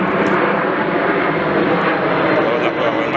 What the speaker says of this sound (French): il y a un avion de temps en temps